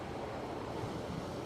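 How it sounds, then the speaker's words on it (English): Strong outdoor wind at a nighttime drive-in menorah lighting, buffeting the microphone as a dense, even rush of low noise with no pauses. "Bit windy tonight."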